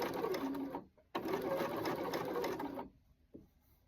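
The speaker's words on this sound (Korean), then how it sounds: "상침하면서 계속 조금씩 아까 이지 스티치 선을 실을 잡아 당겨 가면서 이렇게 재봉을 하는 거예요" A sewing machine topstitches a shirt hem at a 2.5–3 stitch length, running steadily for about a second, stopping briefly, then running again for nearly two seconds before going quiet with a faint final tap.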